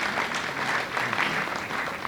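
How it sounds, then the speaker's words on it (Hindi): Steady, dense audience applause fills a felicitation ceremony at Delhi's Hindi Bhavan, many hands clapping continuously and evenly throughout with no pauses or voices rising above it. "तालियां बजाते रहिए आप लोग स्वागत के लिए"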